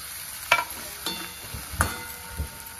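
Onion and tomato fry in oil in a pan while a spoon stirs and scrapes a few times, giving a faint sizzle broken by distinct clinks.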